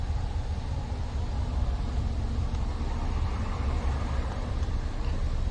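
A car engine with a random multiple-cylinder misfire idles at a standstill, a low, uneven rumble that stays fairly quiet and steady over a few seconds with no voices.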